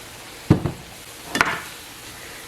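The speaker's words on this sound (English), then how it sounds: "Give that a stir, and then just let that sit and simmer for 1 to 2 minutes" A utensil stirs red enchilada sauce into ground turkey and zucchini in a skillet, giving two short scraping, sizzling strokes about a second apart against a quiet background.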